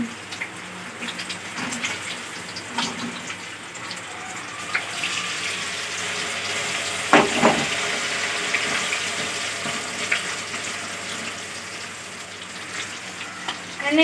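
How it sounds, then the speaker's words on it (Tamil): Slices of raw banana fry in bubbling hot oil, a steady close sizzle broken by occasional stirring clinks and scrapes. "எண்ணெயில் போட்டாச்சா? இப்போ நல்லா கொதிக்குது இல்லையா, அந்த சமயத்தில் தான் போடணும்"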